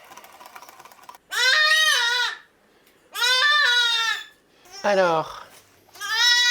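Newborn goat kids, two days old, bleating loudly in several long wavering calls with short gaps, close by, while a person speaks briefly between the cries.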